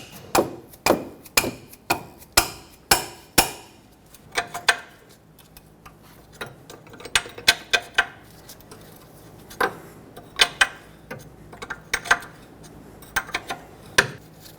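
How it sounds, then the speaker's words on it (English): A rubber mallet taps a wrench to break a mounting nut free on a 2006-2010 Hyundai Sonata tie rod, sharp close knocks in quick bursts with brief pauses between, and no talking. "with the help of a rubber mallet, if needed, break this free."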